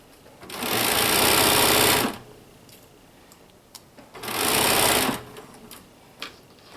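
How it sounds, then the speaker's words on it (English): A sewing machine stitches a dart into a blouse sleeve in two loud, close bursts of about two seconds each, separated by a pause with faint handling clicks and taps. "So we're going to sew our dart in."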